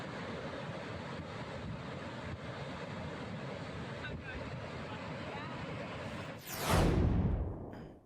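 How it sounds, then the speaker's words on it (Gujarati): Bhambhai waterfall flows after heavy rain, heard as a steady, broad rushing roar of falling water with wind buffeting the microphone, then a loud gust sweeps through near the end. "તેમાં ભામભાઈ ધોધ જે છે તે અહીં વહેતો થયેલો જોવા મળી રહ્યો છે।"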